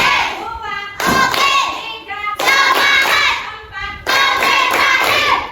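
Schoolchildren in a classroom clap in loud, rhythmic bursts, with short pauses between groups of claps, while a voice counts along.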